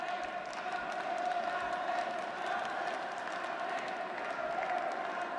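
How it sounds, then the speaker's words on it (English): A crowd at an Olympic qualifying semi-final bout roars and screams, forming a faint, distant wash of massed voices that stays steady throughout, with no single shout standing out. "You can hear the crowd scream"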